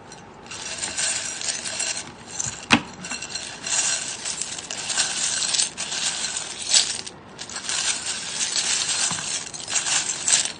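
Small metal charms, including a bear paw charm, are cast for a divination reading, jingling and clinking together in a continuous close rattle with one sharp clack, bright and loud throughout and free of talk.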